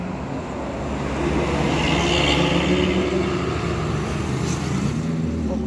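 A Sinar Jaya intercity bus passes on a busy road, a broad steady rumble of engine and tyre roar swelling after the first second and holding loud to the end, with no talk over it.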